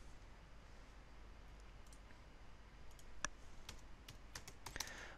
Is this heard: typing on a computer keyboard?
yes